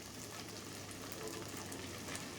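Chicken feet and liver fry with ginger-garlic paste in a pan, giving a faint, steady sizzle with no talk.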